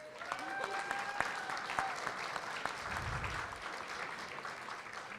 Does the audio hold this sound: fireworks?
no